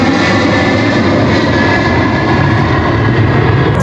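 A fighter plane roars overhead, a loud, dense jet rumble filling the whole clip without pause and drowning out all other sound.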